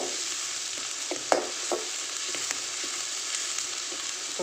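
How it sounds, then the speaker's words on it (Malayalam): Sliced onion sautés in a hot pan with a constant bright hiss of frying, broken by scattered clicks and scrapes from a spoon stirring it. "സവാള നന്നായിട്ടൊന്ന് വഴറ്റി കൊടുക്കുക"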